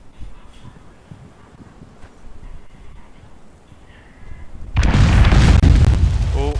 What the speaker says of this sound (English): I saw some more bombs going off there